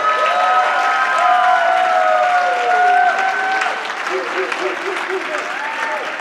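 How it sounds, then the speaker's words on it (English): An audience applauds steadily to welcome debater David Wood, a warm wash of clapping with some cheering, while voices talk over it in the foreground. "warm round of applause for David Wood"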